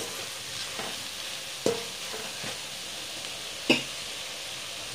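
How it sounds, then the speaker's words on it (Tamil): Ingredients sautéing in oil for a Kerala-style mango pickle: a steady low sizzle under the stirring, with a few sharp spoon scrapes and knocks against the pan. "நல்லா எண்ணெயில் நல்லா வதங்கிட்டோம்"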